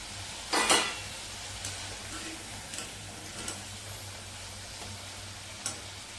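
Potato slices fry in hot oil in a kadhai, making a continuous close sizzle with occasional sharp pops and clicks.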